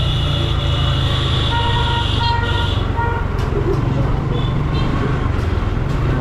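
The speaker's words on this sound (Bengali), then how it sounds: "হর্নটা পুরো একের করে দিছে ভাই" A motorbike horn honks in short repeated beeps over a loud, steady engine rumble close by, with several bursts in the first half and a few fainter ones later.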